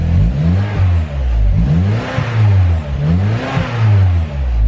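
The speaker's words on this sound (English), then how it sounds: "I'll give you a couple revs real quick." A Saab 9-3 2.0T turbo engine, still cold, is revved a few times close up: the idle swells into short, rising revs that fall back between blips, with no talking.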